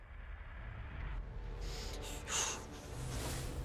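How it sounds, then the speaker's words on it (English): Heavy breathing from a Resident Evil Village gameplay trailer, close ragged breaths and a sharp gasp over a low ambient drone. "Heavy breathing."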